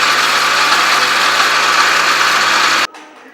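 A mixer grinder whirs loudly and steadily as it grinds pirandai chutney with a little water, then stops abruptly near the end, leaving a faint fading hum.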